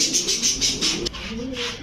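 Pigeons cooing at a pigeon seller's shop selling Giribaz racing pigeons, a close, steady run of soft rhythmic coos with chirpy calls, briefly broken by a short knock partway through.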